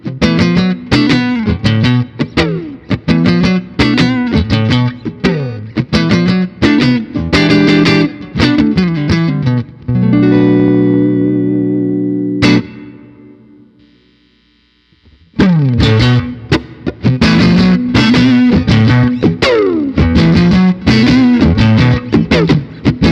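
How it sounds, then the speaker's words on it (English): Electric guitar through a Fender Mustang GTX amp on its '65 Super Reverb preset plays driven, distorted chords and riffs, loud and close, with a long ringing sustained chord fading out midway before the riffing resumes. "Another new amp I want to show you in the Fender collection is the 65 Super Reverb."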